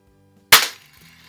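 A single sharp, close crack from a 1933 Daisy Buzz Barton Special BB gun, with a quick decay into faint mechanical noise.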